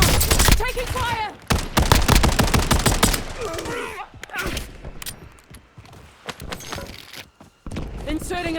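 Gunfire in Call of Duty Warzone, a quads match with STB 556 and BP50 rifles, comes as loud, rapid bursts and crackling volleys with brief gaps. Voice lines from the game break in between the shots.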